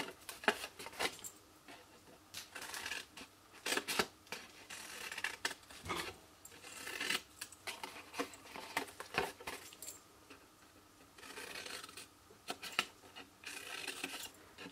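Scissors snip through paper while a lidded box is cut out, giving a run of short, close rasping cuts in irregular bursts with brief pauses between them and no talking.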